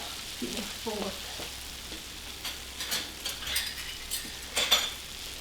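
Soft, steady crackling of butter rice frying in a pan, with light utensil clinks and a brief murmur of a voice early on.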